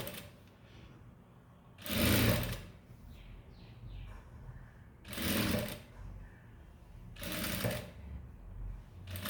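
A sewing machine stitches a blouse in three loud bursts of a few seconds each, separated by quieter pauses where the motor idles and fabric is handled, slowing down around curved edges.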